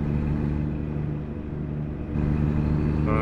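Truck engine in American Truck Simulator pulling steadily under acceleration, a continuous low rumble that swells louder partway through, with no talk over it.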